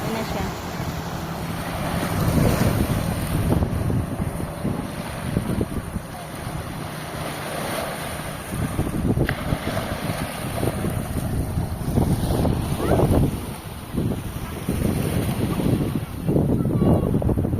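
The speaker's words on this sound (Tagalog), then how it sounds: "Ay, palakas na palakas yung alon, no." Rough surf rolling in continuously at Kapipisa Beach, Cavite, with heavy wind buffeting the microphone, a loud sustained roar; a voice speaks briefly.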